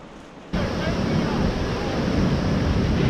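A swift, higher-than-usual river runs over boulders in open country, giving a steady close roar of rushing water with wind buffeting the microphone, rising abruptly after a quieter first half-second.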